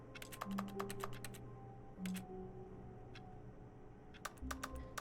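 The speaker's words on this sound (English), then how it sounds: "Why is it making a clicking noise, but I'm not at the keyboard?" Keyboard typing clicks in the video game The Stanley Parable come in quick bursts of sharp taps, with a few isolated clicks between, quiet against a low steady office hum.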